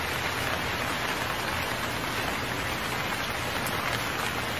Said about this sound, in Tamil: மழை அதிகமா பெய்யுது.